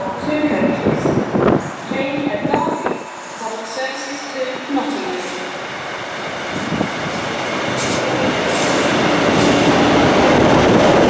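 Train passing through a station on the line to Congleton, wheels rumbling and clattering as it approaches and builds to a loud, close roar, with a voice heard briefly near the start.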